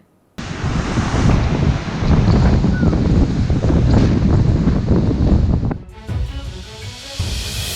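Strong gusting wind of storm Erik in the UK, a loud buffeting roar hitting the microphone that starts abruptly, rages steadily, then briefly drops before surging again.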